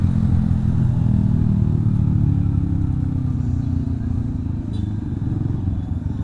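Night traffic jam in Makassar near Pantai Losari, heard from a motorcycle: a dense, steady drone of nearby motorbike and car engines idling and creeping forward, with clattering road noise and no talk.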